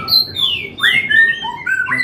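A caged Indonesian songbird calls loudly and persistently, with bright rising and falling whistles and chirps that overlap in quick succession, close to the listener with no talking.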